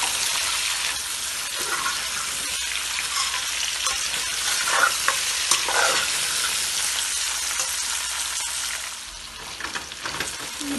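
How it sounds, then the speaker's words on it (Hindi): Sliced potatoes frying in a pan for aloo katliyan, a dense high sizzle crackling steadily throughout, with a few softer scraping stirs and a slight dip in intensity near the end. "और इनको थोड़ी देर तक भूनेंगे, आलूओं को कलर आने देंगे।"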